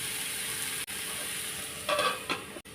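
Kerala-style beans stir fry with green chillies being stirred in a pan: a steady soft sizzle with a few brief scraping bursts of the spoon near the end, no voices.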